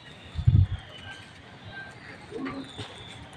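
Soft pigeon cooing, a short low burst near the start, followed by faint rustling and quiet background noise outdoors.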